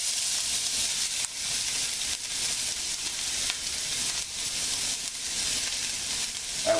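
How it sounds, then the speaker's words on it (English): Chopped bell pepper, onion and garlic sauté in a little oil in a skillet, giving a steady, close, bright sizzle with faint scraping from occasional stirring. "So we're going to saute these here."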